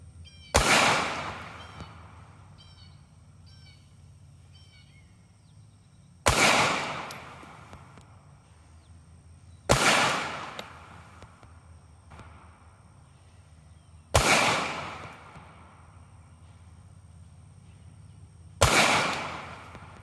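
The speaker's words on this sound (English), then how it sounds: "Now I'll be shooting the 380. This is Critical Defense by Hornady," A Kel-Tec .380 pistol firing Hornady Critical Defense 90-grain rounds. Five sharp, loud single shots are spaced a few seconds apart, and each crack decays into a brief echo before the next.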